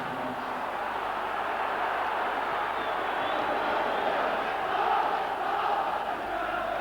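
Steady roar of a large football stadium crowd at a 1990 Dundee United versus Dundee Premier Division match, broad and continuous, with cheering swelling slightly in the middle.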